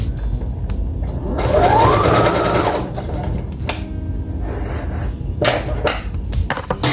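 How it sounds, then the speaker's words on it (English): A sewing machine top-stitches a fabric piece onto a baby shoe, its steady mechanical whir running continuously up close, with a brief louder surge of stitching partway through. "All you're trying to do is top stitch this piece on to the shoe"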